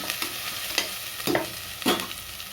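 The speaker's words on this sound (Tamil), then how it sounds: "கருவேப்பிலை கொஞ்சம் போட்டுக்கோங்க நல்லா வதக்கி விட்டுக்கோங்க" Curry leaves saute in a pan on low heat while making chicken biryani: a soft continuous sizzle broken by about four distinct scraping stirs of a spatula, close by, with no talking.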